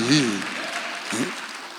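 Congregation applause during an Easter Sunday church service, a broad patter of clapping heard beneath a pastor's voice, which speaks briefly at the start and again midway.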